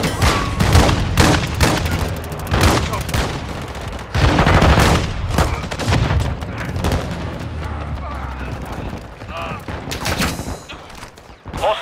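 Dense gunfire in Call of Duty Modern Warfare 2: rapid bursts and volleys of shots, loud and close, with booms mixed in and voices calling out over the shooting.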